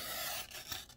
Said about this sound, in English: Now I am going to take my trimmer